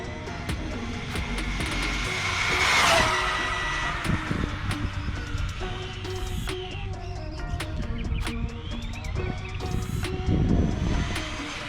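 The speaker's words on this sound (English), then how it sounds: "That's full throttle. We're gonna bring it back full throttle." A Traxxas Slash 4x4 Ultimate RC car tears past at full throttle on a stock speed run, its high-pitched electric motor whine rising and sweeping as it approaches, passes close and returns, with no talking.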